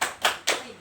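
Two sharp, close hand claps follow a clap already ringing at the start, spaced about a quarter second apart, in the Indonesian classroom clapping game tepuk keinginan.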